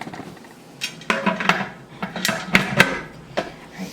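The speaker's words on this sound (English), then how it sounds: "Alright, so now I'm locking my canner. I'm going to make sure it's locked nice and tightly." A metal pressure canner lid is turned and locked into place, giving a close series of irregular clanks, scrapes and taps of metal on metal.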